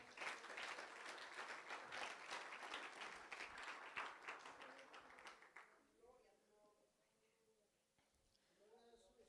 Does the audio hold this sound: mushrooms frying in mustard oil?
no